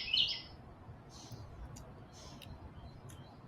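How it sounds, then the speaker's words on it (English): Small birds chirp faintly outdoors in the background, with a brief brighter burst of tweets at the start and a few scattered calls after it over a low steady ambient hum. "I love the birds in the background"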